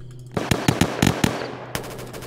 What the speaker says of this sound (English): Shots fired, shots fired. Tech 9.